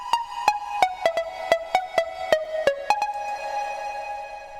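Popping synth lead from Sylenth1 under heavy compression, a quick run of about ten sharp plucky notes stepping downward, each with a hard attack, then a held tone ringing out, no talking.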